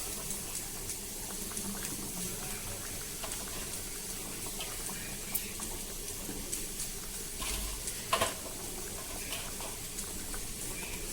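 Fish curry with pieces of washed fish simmering in a thick reduced gravy in a pot, a steady bubbling boil with soft pops and an occasional stir, close and continuous.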